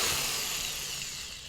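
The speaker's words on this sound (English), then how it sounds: "We recommend, if you can get a hold of a 1/2 inch drill bit like this, it makes it a lot easier" A 1/2 inch drill bit bores into a plastic yogurt container, a brief, close, steady whirring grind that slowly fades, with no talking.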